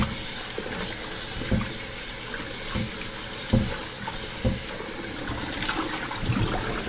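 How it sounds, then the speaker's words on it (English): Cold tap water runs steadily into a sink while grains are washed by hand, a constant close splashing hiss broken by occasional soft sloshes and knocks. "So you have to use tap water to wash it."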